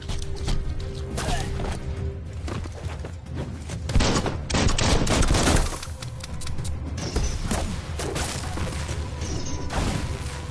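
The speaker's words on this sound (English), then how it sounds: "Bullets everywhere." Gunfire in the video game Biomutant: dense bursts of shots and mechanical clatter over a rumbling game soundscape, loud and continuous with a heavier surge midway.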